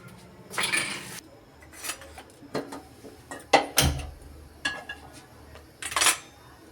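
Clattering of dishes, pots and utensils in a home kitchen while eggplant and potato are being washed for dal, a few separate clinks and knocks with brief splashes, fairly close and without talk.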